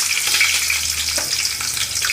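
Long-sliced onion goes into hot oil with cloves, peppercorns and bay leaf, giving a loud, dense, continuous sizzle, close and without any voice.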